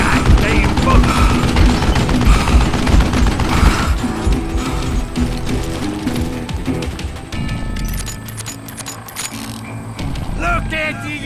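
Dense, loud volleys of gunfire from the Western shooter game Gunslinger fill the scene with crashing shots, thinning toward the end among clattering effects.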